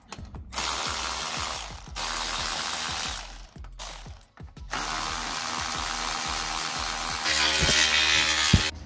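A ratchet wrench works on the gearbox mounting of a 2014 Mazda 2 during a clutch replacement, giving close, loud bursts of rapid clicking separated by short pauses.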